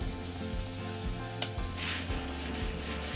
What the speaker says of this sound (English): use an abrasive cleaner and scrub everything down super well